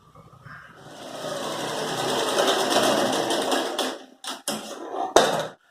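A sewing machine runs a steady top stitch along a travel bag, whirring continuously for several seconds, then stopping and starting in short bursts with clicks.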